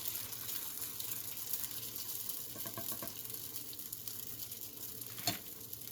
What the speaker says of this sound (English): keep this frying until it turns into golden brown